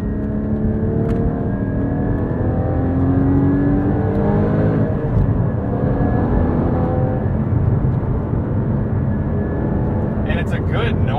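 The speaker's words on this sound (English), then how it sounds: "it's a good noise level too from the exhaust" A loud 2016 Porsche Cayman GT4 engine drones and revs steadily, its exhaust roar rising and falling as it accelerates, with voices talking faintly underneath.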